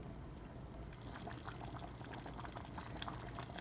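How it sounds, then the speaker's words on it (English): Pot of Cajun red beans at a steady boil, a dense continuous bubbling with small pops and gurgles throughout, close and even in level, with no talking. "Just going to let it boil for probably another 30 minutes or so."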